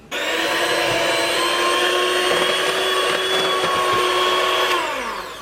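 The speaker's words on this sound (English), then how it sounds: "I'm going to mix that together now" Electric mixer or blender whirring steadily at high speed through vegan marble cake batter of cacao and coffee, close and loud, starting abruptly and winding down at the end.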